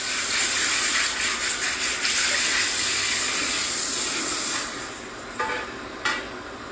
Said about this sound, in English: Letting the water heat up.